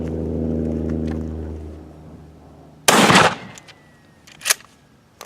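A rifle fitted with a Magpul SGA stock firing outdoors, one loud close blast that rings out, followed by a second, fainter report about a second and a half later.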